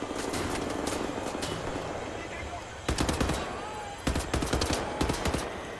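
Gunfire in the shooter Wolfenstein The New Order: dense automatic bursts with sharp, repeated cracks in clusters, loud and close, while someone talks over parts of the shooting.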